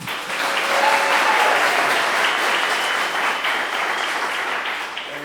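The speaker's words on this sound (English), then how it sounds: "Everybody have to be really loud in here. Clap." Loud audience applause in a room at a school creative writing event, dense sustained clapping from a crowd that swells early and holds steady throughout.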